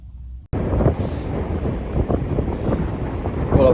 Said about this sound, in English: I don't know if you can hear me over this wind